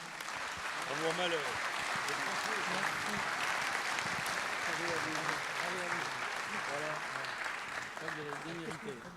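A business-awards audience applauds a trophy winner with steady, dense clapping filling the room, while a voice carries on speaking over it throughout.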